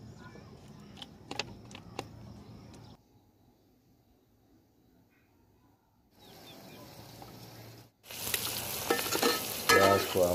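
Onions go into hot oil in a pot for a haleem, starting with sharp stirring clatter. After a quiet stretch, a soft, steady fry builds into a loud, close sizzle.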